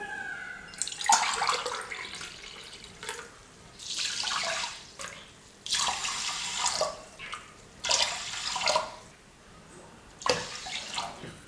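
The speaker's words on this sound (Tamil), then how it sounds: "இதே டம்ளரில் 4 டம்ளர் அளவுக்கு நான் தண்ணி அளந்து சேர்த்துக்க போகிறேன்" Water is measured with a tumbler and poured into a pressure cooker holding rice, coming in several separate splashing pours with short pauses between them, close by and moderately loud.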